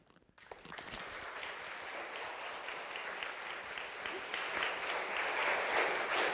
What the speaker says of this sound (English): Okay, hold the applause.